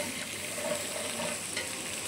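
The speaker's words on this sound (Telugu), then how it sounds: "ఇట్లా ఉల్లిగడ్డలు ఇట్లా రోస్ట్ అయినప్పుడు అల్లం పేస్ట్ వేసుకోవాలి." Ginger paste frying with roasted onions in a pan, a continuous loud sizzle with faint stirring, close up and without talk.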